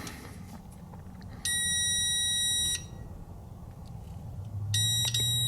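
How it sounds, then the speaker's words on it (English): Continuity tester beeping on a 1973 Trans Am seat, two sustained electronic tones, each lasting about a second, sounding against a quiet room hum. "So I got the continuity tester on this thing."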